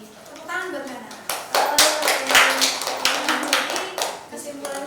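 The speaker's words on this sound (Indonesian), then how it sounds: "Tepuk tangan buat Nana." Classroom applause during a group counseling microteaching session, a burst of many hands clapping that starts after a second and carries on with children's voices mixed in.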